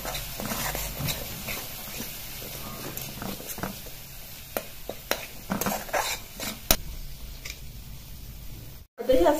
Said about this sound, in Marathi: आता हे पावडरचे जे मसाले आहेत ते एकत्र करून घ्यायचे आपल्या ओल्या मसाल्याबरोबर